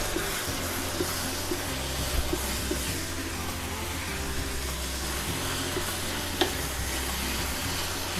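Pork mince and shallots sizzle steadily while being stir-fried in a pan, a dense continuous frying hiss with low rumbling stir-and-scrape movement and a few brief sharper clicks, loud and close with no talking.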